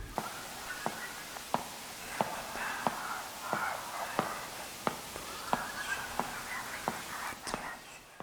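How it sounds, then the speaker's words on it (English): Footsteps in the horror video game Detention tread at a slow, steady pace, one quiet step after another, over a hushed, eerie ambient background with no music. "the only noise you can hear in certain parts are your own footsteps"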